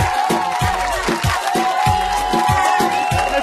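Studio audience applauds and cheers for a singer-songwriter and producer on a Mexican TV show, steady loud crowd noise with rhythmic percussive music underneath throughout.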